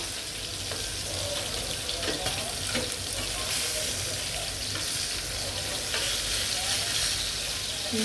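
Chicken pieces sizzling in hot oil while frying for masala curry, a continuous crackling hiss with intermittent stirring and scraping at close range.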